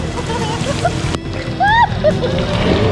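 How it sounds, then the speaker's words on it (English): Water splashing down at a water park slide ride, a loud rush of spray close by, with people shrieking and shouting excitedly over it. "let's try to move to the side so we don't get splashed"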